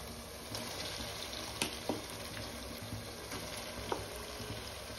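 Chicken sizzles in a hot pan with garlic and green chillies for a desi-style dish, a soft, steady frying hiss dotted with occasional sharp crackles and pops, with no talking.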